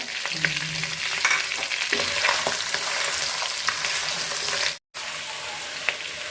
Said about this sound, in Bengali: মাছ ভাজার তেলে আমি এখন পেঁয়াজ দিয়ে দিব